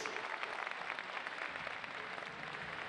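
Applause for a boxer after the decision in a women's boxing bout: faint, steady clapping from an arena crowd, with no talk heard.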